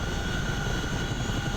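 Steady, dense rotor and turbine drone of a CH-47 Chinook helicopter in the DCS World flight simulator, a continuous loud roar with no breaks or voices.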